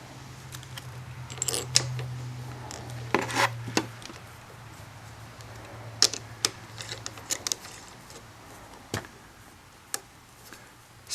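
Irregular clicks and taps as a 50mm bolt coated in Loctite is snugged down on Kawasaki Concours 14 pullback handlebar risers, a scatter of sharp close metallic ticks over a steady low hum.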